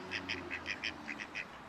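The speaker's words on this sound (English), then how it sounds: "They're ducks." A small flock of ducks quacks in quick, fairly regular bursts, about ten calls in under two seconds, moderately near and alone over quiet background hiss.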